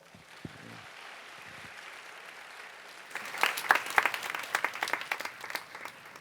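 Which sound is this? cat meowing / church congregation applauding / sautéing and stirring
church congregation applauding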